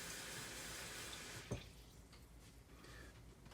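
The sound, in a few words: tap water running into a small pan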